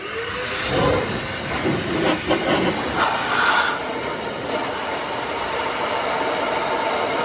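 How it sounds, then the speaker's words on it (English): A shop vac sucks antifreeze coolant out of an Audi, giving a steady rushing hiss that runs the whole time with small surges near the start. "this from now on will be my coolant shop vac"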